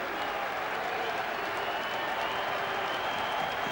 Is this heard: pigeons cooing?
no